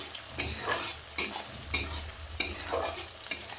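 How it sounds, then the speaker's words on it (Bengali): Bay leaves, cinnamon, cardamom and cloves frying in hot oil in a pan for chicken kosha, a steady close sizzle broken by about six sharp stirring scrapes, with no talking. "এখানে কয়েকটা দিয়ে দিলাম তেজপাতা, দারচিনি, এলাচ, লবঙ্গ। এগুলোকে এবার আমি হালকা লালচে বাদামি করে ভেজে নিব।"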